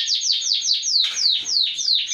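Small birds chirping in an aviary, a steady run of quick, bright descending tweets repeating about every quarter second, close and loud with several birds overlapping.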